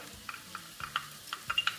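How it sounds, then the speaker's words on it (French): Chopped onions and garlic sautéing in a casserole pan, giving a steady close sizzle with a few soft stirring scrapes and light utensil clicks. "On attend que ça chante bien dans la casserole."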